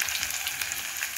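Small shallots frying in a pan, giving a short, steady crackling sizzle that stays bright and even throughout, with no talk.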